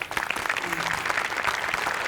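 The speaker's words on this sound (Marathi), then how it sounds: "दोघांसाठी टाळ्या" An audience on a comedy show breaks into sustained applause, a dense, even wash of clapping from many hands that holds steady throughout.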